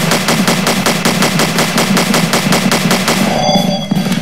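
Rapid automatic gunfire rattles in a steady, evenly spaced burst in the Slendytubbies horror game, loud and close, ending with a short electronic tone.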